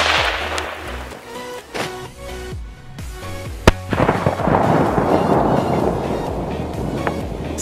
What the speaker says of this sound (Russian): Все-таки большая петарда мощнее этой жидкости